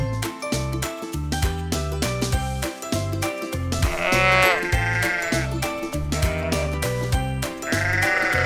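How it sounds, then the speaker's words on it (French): Farm sheep bleating in two or three long wavering calls over continuous backing music, clear and close. "Comment fait un mouton?"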